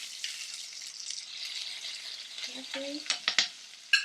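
A stuffed methi paratha fries in butter on a pan, giving a steady close sizzle with a few sharp clicks and taps near the end and a brief spoken word over it.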